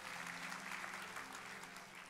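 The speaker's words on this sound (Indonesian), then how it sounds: "berikan tepuk tangan bagi nama Tuhan" Church congregation clapping together during a sermon, a steady, fairly faint wash of applause with a low hum beneath.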